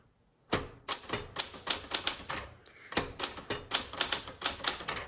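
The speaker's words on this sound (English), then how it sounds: "Let's go ahead and do some typing." Typing on a 1967 Smith Corona Super Sterling manual typewriter produces close, crisp key strikes in two quick bursts separated by a short pause, the clacks coming in an irregular, rapid rhythm.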